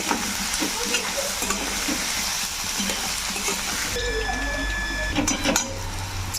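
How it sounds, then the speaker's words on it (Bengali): Onions sizzle loudly in hot oil, stirred with a utensil that scrapes and clinks against the pan in short bursts. "আমি ভালো করে পেঁয়াজটা ভেজে নেব।"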